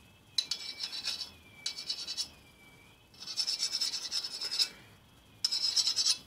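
A metal file skating across the hardened bevel of a knife made from an upcycled metalworking file: four bursts of harsh, close rasping strokes separated by brief pauses, with no talk.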